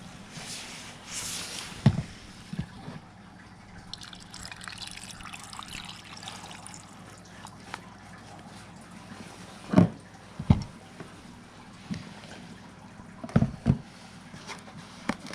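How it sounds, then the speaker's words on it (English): Water trickles and pours into a rock tumbler barrel holding Nevada rose rocks, a soft steady dribble with several louder splashes and knocks near the end. "I'm gonna add some water."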